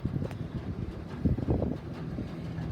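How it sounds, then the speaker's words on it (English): An electric fan runs in a sawmill workshop during a Woodmizer LT40 idle wheel bearing repair, a soft steady whoosh under scattered low knocks and clatter from nearby work. "I got the fan on if you're wondering what the extra noise is."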